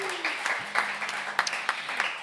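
Live radio show audience applauding a musician, scattered claps of moderate loudness running briefly behind a low steady tone.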